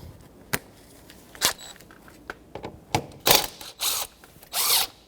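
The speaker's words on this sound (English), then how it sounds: "10 millimeter socket or a Phillips screwdriver, and we're going to remove that intake hose." Socket ratchet working on the intake hose of a 2014-2019 Toyota Corolla 1.8L, with several short bursts of clicking and two longer ratcheting runs, close and fairly loud with no talk.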